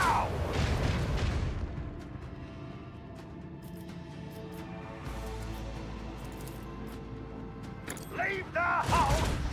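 Heavy ship cannon fire in Warhammer 40k: Rogue Trader: deep booming blasts at the start and again near the end, with a voice speaking and a low rumble between the volleys.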